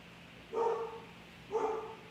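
A dog gives two separate barks about a second apart, heard at a moderate distance against a quiet background.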